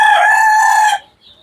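A loud, close crow from a rooster on a free-range native hill-chicken farm fills about a second, then stops short with a faint cluck or two after it.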